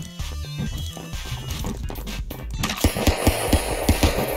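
Gunshots in the game Stick Fight, a quick run of sharp evenly spaced cracks in the second half following busier clattering action, loud and close.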